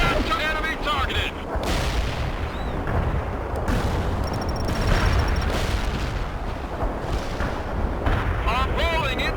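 Distant artillery fire and airstrike explosions rumble through a World in Conflict battle, booms and bursts layered under radio chatter, with occasional higher whines mixed into the steady din.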